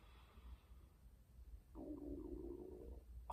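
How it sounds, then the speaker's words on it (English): A person's stomach rumbles audibly in a quiet gym setting, a low gurgling growl lasting over a second, faint and close, with no talking over it. "That was my stomach."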